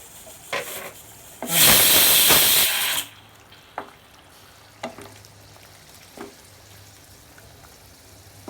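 Sesame seeds tipped into a hot pan for a pork and bamboo shoot dish give a loud burst of hissing sizzle lasting about a second and a half, followed by a quiet fry and a few sharp utensil taps.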